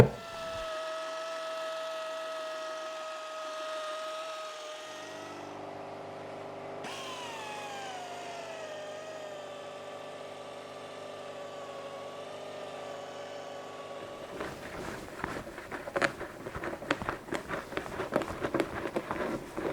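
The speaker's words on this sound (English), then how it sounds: "I'm lazy and decided to use my pneumatic polisher" Pneumatic polisher running with liquid compound on a restored Belden portable wiring kit, a steady close whine that shifts pitch as it slows and stops, followed by scattered clicks and handling knocks.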